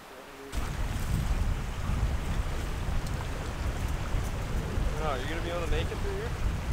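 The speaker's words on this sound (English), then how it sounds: "This is the water coming out of that lake." Steady broadband rush of a stream flowing out of a lake in winter, filling the whole clip with wind noise; a brief voice is heard near the end.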